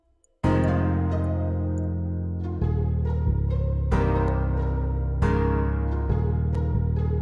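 Synthesized big string pad with an X-band layer plays a repeating chord pattern for an autumn-style beat, sustained and loud, with several chord changes over a steady low bass and no voices.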